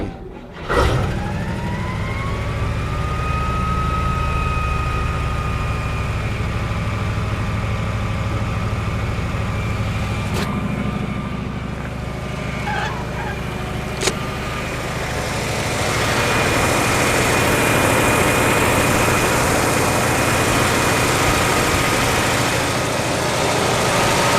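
A 1956 Oldsmobile 88 engine cranks briefly, catches and keeps running, holding a loud, steady idle with a raised pitch early that settles, close up and with no talking.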